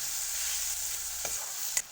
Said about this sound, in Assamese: এতিয়া মই ইয়াতে শুকান মাছখিনি ফ্ৰাই কৰিছিলোঁ নহয়, সেইখিনি দি দিম। তাৰ পৰা আকৌ অকণমান টাইম ভালদৰে ভাজি ল'ম।